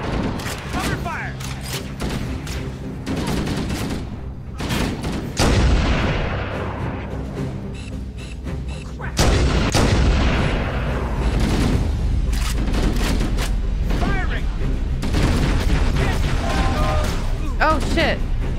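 Heavy gunfire and explosions in Halo: Combat Evolved, dense bursts and booms over about eighteen seconds, loud and continuous with brief lulls, while voices shout over the battle.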